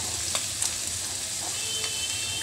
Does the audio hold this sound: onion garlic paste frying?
yes